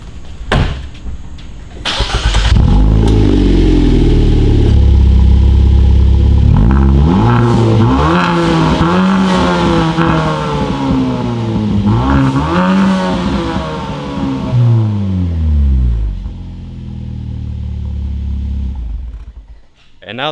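A Hyundai Veloster N engine with its stock downpipe revs up and down repeatedly, loud and close, its pitch sweeping higher with each push before settling back toward idle.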